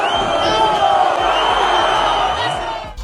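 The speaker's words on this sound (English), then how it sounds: "the fans started booing and insulting him" A stadium crowd of football fans jeering at Real Madrid's Jude Bellingham, a loud sustained mass of shouting and booing voices with scattered sharper yells.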